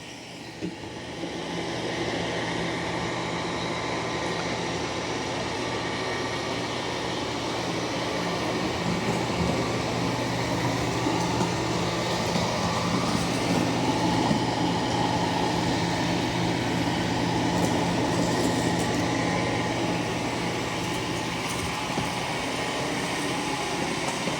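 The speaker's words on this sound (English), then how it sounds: "we're gonna see how the Eufy C28 vacuum and mops this room" A Eufy C28 robot vacuum vacuums and mops a room with its water set to high, giving a steady, continuous motor whir with a broad hum that holds even throughout, no voices over it.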